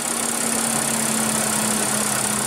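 A 2015 Audi Q7 with a 3-liter supercharged V6 idles steadily, giving a constant close-up engine drone with a low hum and no variation in level.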